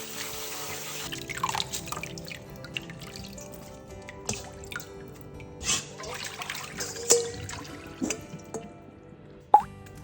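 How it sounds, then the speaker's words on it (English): Water drains and drips from freshly washed broccolini, with soft irregular plops and trickles over a quiet background. "Wash the broccolini and drain completely."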